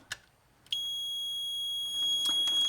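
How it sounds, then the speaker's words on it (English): A short across N gauge model railway track triggers a sustained high electronic buzz from the controller, starting after a couple of faint clicks and holding steady to the end, fairly quiet. "if you do put something across the track, which I will now do, and this is the lower section, you'll see that you'll hear a buzz"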